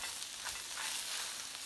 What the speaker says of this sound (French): Et on saisit là sur le côté chair en premier.